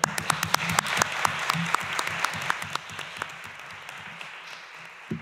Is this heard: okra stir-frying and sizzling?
no